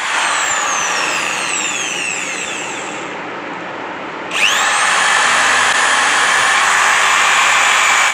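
A power tool whines at high speed while tightening loose screws on a sofa, loud and close, its pitch sinking as it slows and goes quiet for a moment, then snapping back up to a steady whir.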